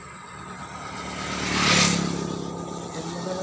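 A motorcycle speeds past on a road beside rice paddies used by riders as an informal racetrack, its engine rising from a distant whine to a brief loud peak as it passes, then fading away.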